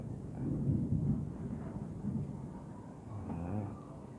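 Low rumbling thunder rolls in irregular swells, heard outdoors through a phone microphone with a steady noisy background.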